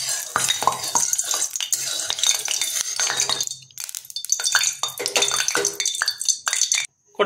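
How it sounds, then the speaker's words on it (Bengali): A metal spatula scrapes and clatters around a wok of hot mustard oil, busy close strokes with a faint sizzle under them, then a brief pause before the scraping resumes. "এখন গরম তেলটাকে আমরা খুন্তি দিয়ে কড়াইয়ের চারিদিকে"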